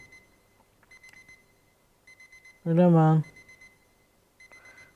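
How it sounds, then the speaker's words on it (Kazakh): An alarm clock in a home beeps in short repeated bursts, going off several times across the clip, with a voice speaking loudly over one stretch in the middle. "Будильник өшіш будильникті."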